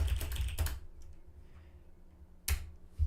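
A burst of rapid clicking on a computer keyboard during a game stream comes first and stops. After a quiet gap, a couple of sharper keystrokes follow, close and fairly faint.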